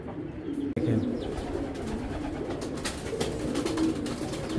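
Racing pigeons coo steadily from close by, with soft overlapping calls continuing throughout and no talking.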